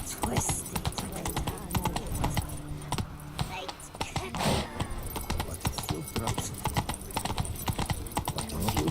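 Horse hooves clip-clop at a steady gallop rhythm in The Witcher 3, close and loud, with jangling tack and character speech over the top.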